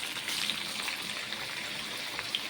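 Chopped onion, tomato, cinnamon, dried vegetables and curry leaves dropped into hot oil with popped mustard seeds, a steady loud hiss and crackle of frying, close and continuous with no talking.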